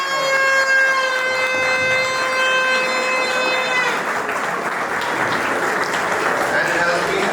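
Audience applause at a college gathering of returning alumni, a steady broadband patter of many clapping hands sustained throughout, with a loud tonal siren-like whistle over the first half before fading out.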